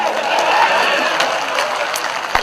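Broadband audience applause at a Hindi comedy-satire poetry recital, a dense patter of many clapping hands at close range, holding steady for a couple of seconds with a few sharper claps near the end.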